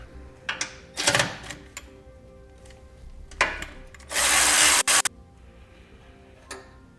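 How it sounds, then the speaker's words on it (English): Tools removing a 12mm bolt from a bracket during a Roadmaster Direct-Connect base plate install, heard as scattered clicks and ratcheting bursts with one longer loud buzzing stretch in the middle. "We're going to take out this 12mm bolt."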